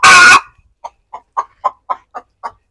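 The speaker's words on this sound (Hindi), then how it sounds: "जब मुर्गी अंडा देती है ना उसके बाद ना जिस तरह ये बोलनी ना ऐसे बोलने लग जाती है" A hen clucks after laying an egg, a steady series of about eight short, separate calls, close by, following a brief burst of loud rustling noise at the start.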